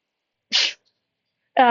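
A short breathy burst like a voice imitating a sneeze, followed after a pause by the start of a spoken word.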